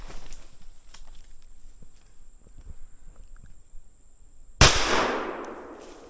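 A 12 gauge single shot shotgun fires once at a squirrel outdoors. After a few seconds of quiet woodland rustling with a faint steady insect or bird tone, the single sharp blast is followed by a fading echo.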